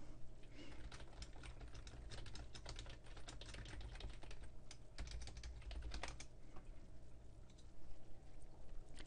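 Steady, rapid typing on a computer keyboard as an email reply is written, soft, close clicks over a low constant hum.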